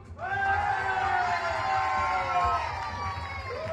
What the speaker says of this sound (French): on va faire un petit applaudimètre pour voir si vous êtes meilleurs que ce matin